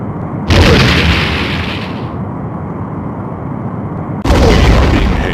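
In a Star Trek starship video game, a torpedo launches with a loud booming blast that rumbles away over about two seconds, then a second heavy explosion hits near the end.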